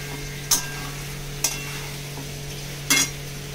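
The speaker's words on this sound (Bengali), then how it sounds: "এবার মোচাটা আস্তে আস্তে মশলার সঙ্গে ভালো করে কষিয়ে করতে হবে।" Banana flower being stir-fried slowly with spices in a pan, a low steady sizzle broken by three sharp scrapes or clacks of a spatula against the pan, with a constant low hum beneath.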